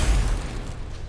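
A Confringo blasting spell explodes in a magic video game, a short, loud, low booming burst that rolls off and fades within about a second.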